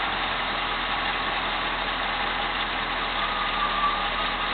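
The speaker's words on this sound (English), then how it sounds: "I'm going to take the hose out and try to listen for the RPM drop." A car engine idles steadily at close range with the vacuum hose pulled off, a constant mid-pitched hum holding through without any voices, any drop in revs too slight to stand out.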